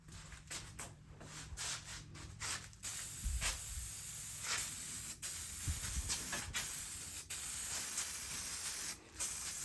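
SEM Color Coat plastic paint sprays from an aerosol can onto Datsun 280Z interior plastic parts, a close, airy hiss that comes in several bursts, some short and some sustained, with brief pauses between them.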